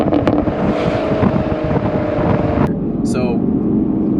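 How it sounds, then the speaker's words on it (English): A Chevrolet Camaro 1LE's engine and exhaust roar loudly nearby, with wind rushing, and a few sharp, brief exhaust pops and crackles come as the throttle is lifted. "No matter what, you just take your foot off the gas, pops everywhere."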